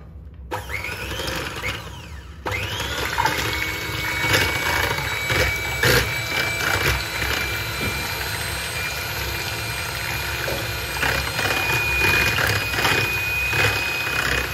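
Electric beater whipping cream with condensed milk for a jelly dessert, a steady high motor whine that starts abruptly and runs continuously, close and loud with no talk over it.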